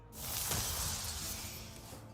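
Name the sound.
Shard Shatter card shattering effect from Hearthstone video game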